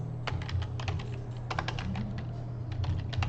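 Soft, rapid keystrokes on a computer keyboard click irregularly in bursts over a low, steady hum.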